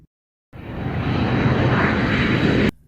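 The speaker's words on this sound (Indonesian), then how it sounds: "Itu adalah pesawat kargo jenis Antonov." Engine roar of an Antonov cargo airplane, a loud, steady broadband drone that starts abruptly, holds for about two seconds and cuts off sharply.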